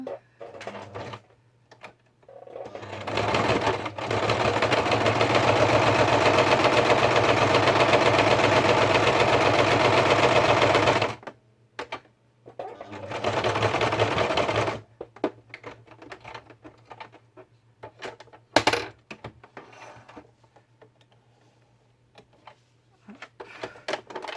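A sewing machine stitches in a long, steady run of about seven seconds, then starts again for a shorter burst after a pause, followed by sparse handling clicks and rustles; no one speaks during the stitching.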